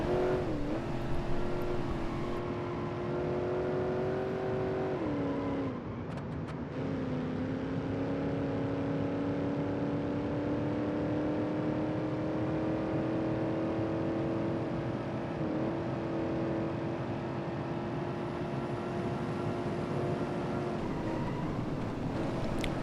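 A Nissan Skyline GTR R34 engine in BeamNG.Drive revs and holds a steady, droning tone, rising and falling in pitch over a long run; the supercharged car is overheating and on fire.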